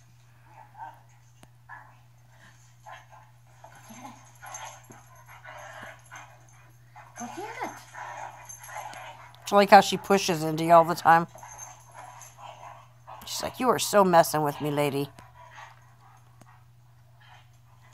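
Soft, close puppy whimpers and squeaky yips come in short bursts over a low steady hum, while someone talks quietly.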